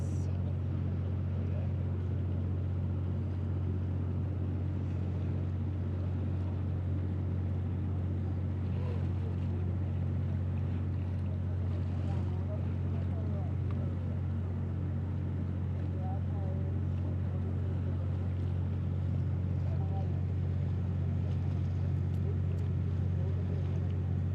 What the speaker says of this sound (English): It's a bit blustery on the boat.